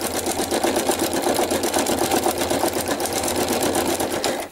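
A sewing machine stitches over fabric in a rapid, even mechanical chatter, close and steady for a few seconds, with no voices.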